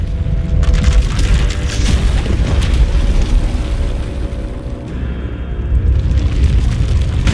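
A loud, sustained power eruption explosion from the Star Wars: The Old Republic video game, with a continuous roaring rumble and crackling bursts that dip briefly before surging again.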